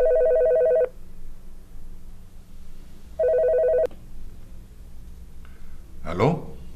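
A telephone rings twice with loud electronic trilling bursts separated by a quiet pause, and a brief rising tone follows near the end.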